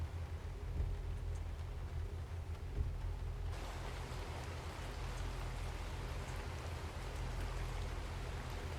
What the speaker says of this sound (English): The mod for the rain, more realistic rain